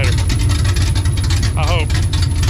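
A car engine idles with a loud, steady low rumble, and a thin, constant high-pitched squeal from the alternator rides above it throughout.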